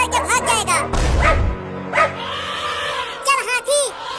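A dog barking at an elephant, several sharp close barks in quick bursts at the start and end, with a low rumble in between.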